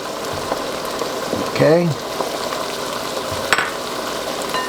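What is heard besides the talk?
onions sizzling as they are thrown into the pan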